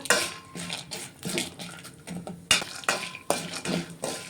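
Peanuts, chana dal and urad dal fry in a pan, with a spoon scraping and clinking against the metal in irregular strokes, close up and fairly quiet, with no talk.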